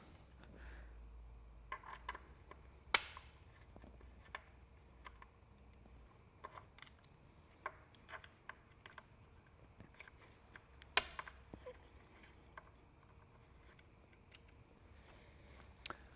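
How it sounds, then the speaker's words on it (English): Removing three bolts from a STACYC 20hDrive balance bike with a 4mm Allen key gives faint, close clicks and ticks scattered at irregular intervals, with a couple of sharper metallic clacks, in a quiet room without talk. "we're going to remove our 3 bolts using a 4mm Allen"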